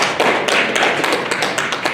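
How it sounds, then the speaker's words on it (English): Audience at a youth summit giving a round of applause, a dense steady wash of many hands clapping close and loud for the full stretch, with no talk over it. "Please, a round of applause"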